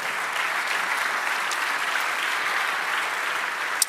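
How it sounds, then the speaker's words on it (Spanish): Steady applause from a church congregation during a service, dense clapping sustained throughout with no pauses, fairly close and even in loudness. "Dale otro aplauso al Señor,"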